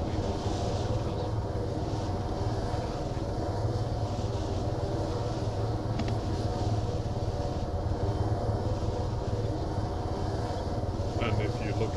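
Steady droning engine roar of a fixed-wing airplane in flight in Arma 3, heard from inside the cabin as a constant, loud, unbroken hum, with faint voices talking beneath it.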